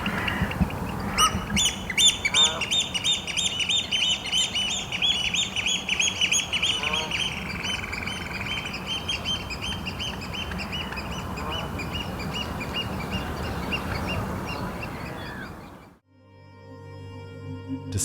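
Eurasian oystercatchers on the coast call in repeated sharp, piercing piping notes, several birds overlapping in bursts over a steady background wash. A brief pause follows before a few more calls at the end.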